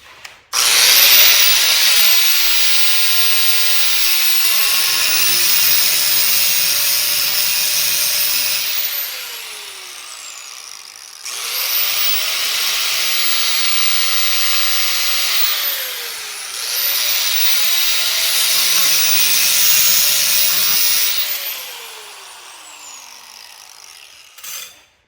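A grinder takes the burrs off metal in three long passes. Each starts with a rising whine, holds a harsh grinding roar, then winds down, with short quieter gaps between.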